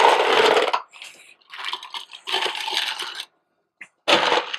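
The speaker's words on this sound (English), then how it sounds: "start with your pitcher, and we're going to add the ice straight to it" Ice cubes tumble into an empty cocktail pitcher while a Pimm's cup is being made, in several clattering bursts of hard cracking and crunching, loud and close, with short silent gaps between pours.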